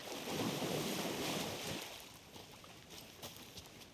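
Deep water in the Alan Wake II video game: a broad, steady wash of waves and wind noise, loudest in the first two seconds, then easing to a softer, continuous surf-like hiss with no voices.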